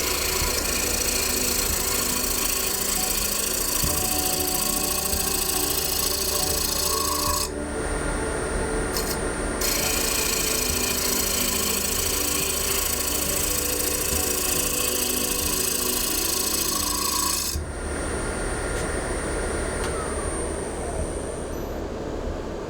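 A steady, continuous scraping hiss over a constant machine hum as a gouge makes a light cut hollowing a wooden bowl on a spinning lathe, running without pause.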